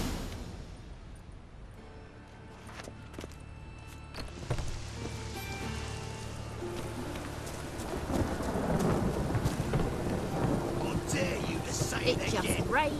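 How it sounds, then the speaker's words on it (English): Steady rain with low thunder rumbles in The Witcher 3, building louder toward the end, with game voices and music layered over it. "It just rains and rains."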